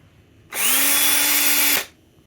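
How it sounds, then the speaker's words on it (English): An electric drill whines steadily at high speed for just over a second, drilling holes in the bottom of a GE Super 165 portable's case, starting and stopping abruptly, close by with no talking. "wants me to drill holes in the bottom of this ugly looking swan thing"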